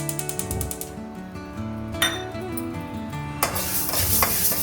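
Horse gram dry-roasting in a pan without oil, a steady rustle of scraping and stirring with brief louder scrapes; low tonal hum underneath, no talk.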